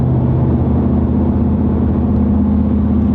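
A 2004 Chevy Silverado with its exhaust cutout valve open while driving gives off a loud, steady, deep exhaust drone that holds even throughout, with no talking.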